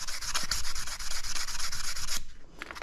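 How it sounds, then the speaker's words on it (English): Hand sanding of a Delphi 670/680 steering gearbox part with 400 grit sandpaper, a close, continuous rhythmic rubbing of quick back-and-forth strokes that stops abruptly near the end. "So I have a piece of 400 grit sandpaper here, and I'm going to try to buff that up just a bit."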